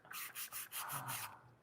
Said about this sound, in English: I'm going to file this a little tighter